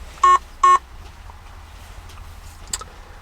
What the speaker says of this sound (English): That beeping is speed camera detect that's happening here in the background.